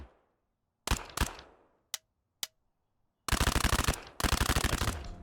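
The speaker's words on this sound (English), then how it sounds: "You can shoot through soft cover like this to take out the target behind." Gunfire on a firing range in the video game Thunder Tier One: two single shots, two sharp isolated cracks, then two long rapid automatic bursts, loud and close with no voices.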